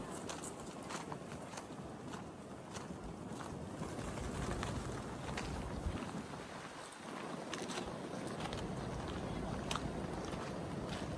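Prayer flags flap and rattle in strong wind at a mountain site in Shangri-La, a continuous rushing, fluttering roar with steady gusty buffeting, no voices.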